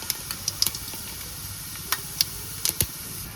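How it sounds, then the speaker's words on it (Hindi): Whole spices crackle and sizzle in hot oil and ghee in a home kitchen, a steady low frying hiss broken by several sharp pops and spits, close and fairly quiet, with no talking. "तो यहाँ पे जो है वो तेल अच्छे से गर्म हो गया है और अब इसमें डालेंगे कुछ खड़े मसाले।"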